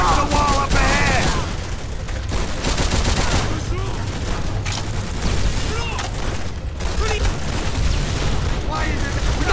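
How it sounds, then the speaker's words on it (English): Machine gun fire from an MG nest in Call of Duty: World at War on PS2, loud rapid bursts and explosions mixed with shouted orders over continuous battle noise. "Watch that MG fire!"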